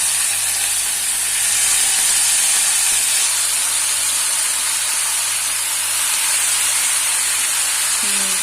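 Cut potato pieces hiss and sizzle steadily in hot oil with fried onion, a loud, continuous frying sound that ends with a faint clatter.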